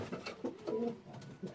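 A young milky pigeon cock coos in an allotment loft, giving soft, low, throaty coos close by in a short repeating phrase.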